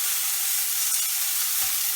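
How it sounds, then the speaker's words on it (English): Beef pieces for an English beef stew frying in a hot pan, a constant close sizzle and hiss with faint crackles, steady throughout and without talk. "they're frying all the time"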